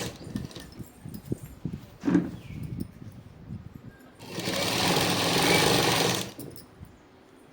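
A sewing machine stitches a Punjabi dress, with a few short bursts and clicks early on, then a loud, steady two-second run of rapid needle chatter before stopping.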